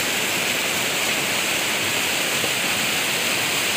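Rain-fed flood water rushes below the Gladak Perak bridge on Semeru volcano, a steady loud broadband roar with no breaks, like a churning torrent heard close by.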